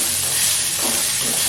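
Snake gourd frying in hot oil, giving a loud, continuous, close sizzle with a bright hiss throughout.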